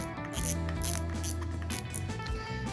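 A freshly cleaned and greased fishing reel spins freely, giving a smooth, light whirring with several short ratcheting pulses, close and alone.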